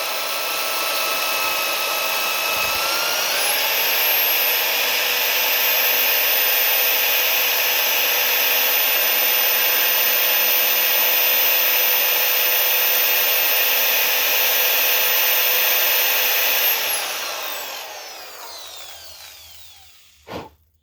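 A power drill runs steadily, boring into a handmade valley screen for a big block 565 engine, the loud continuous whine holding for about seventeen seconds before winding down, with a brief clunk at the end.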